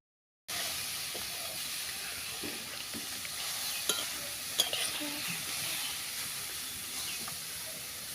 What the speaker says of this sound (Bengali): শাকগুলো শুকনো শুকনো করে নেড়ে নিয়েছি